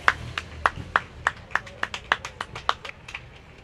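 Sparse, distinct handclaps ring out at a parade for passing police officers, about a dozen sharp claps in an uneven rhythm over quiet street background.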